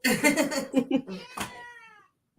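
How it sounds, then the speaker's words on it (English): A cat meows repeatedly at close range, several drawn-out, wavering cries in a row, followed by a brief quiet. "Here she go. She like meow."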